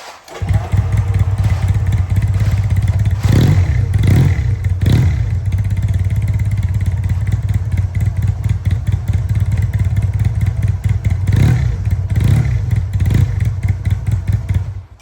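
A motorcycle engine runs loudly and steadily up close, with a few short revs and rattling bursts early on and again near the end.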